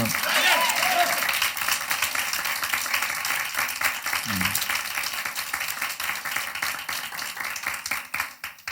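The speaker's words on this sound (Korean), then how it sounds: "먼저 우리 하나님께 박수로 영광 돌리겠습니다" A Korean church congregation claps together during a Sunday morning worship service, a dense, sustained round of applause that thins out toward the end, with a voice faintly audible beneath it.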